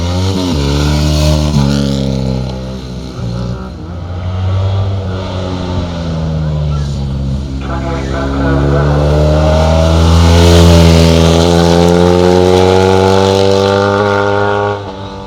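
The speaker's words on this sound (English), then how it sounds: "It's Michael Kemp on his Norton 750." A classic Norton 750 motorcycle races up a hillclimb course, its engine loud and close, revving hard with rising and falling harmonic pitch through gear changes, while a commentator talks over it.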